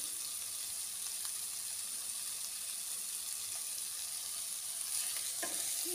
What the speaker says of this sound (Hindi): गरम मसाला पाउडर डालने के बाद 4 से 5 सेकेंड के लिए पकाएंगे सब्जी को